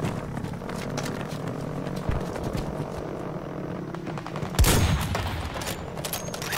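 Gunfire from the Battlefield Zero Hour video game rattles in rapid bursts over a rumbling battle backdrop, with one louder blast partway through and no talking.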